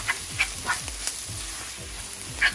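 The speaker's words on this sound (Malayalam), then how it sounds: "ഇതും കൂടി ചേർത്തിട്ട് നന്നായിട്ടൊന്ന് മിക്സ് ചെയ്യാം." Masala for a restaurant-style chicken gravy fries in a pan, making a low sizzle under several sharp scraping strokes as it is stirred and mixed. The sound is close and uneven, and no voices are heard.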